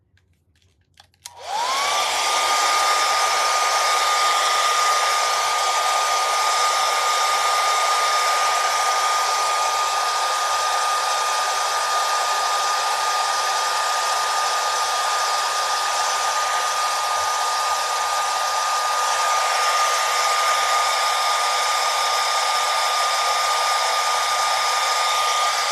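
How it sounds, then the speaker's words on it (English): A hair dryer blow-drying a stencilled St Patrick's door hanger switches on and runs loud and steady for about twenty-five seconds, a constant close whoosh with a high motor whine. "Quick blow dry."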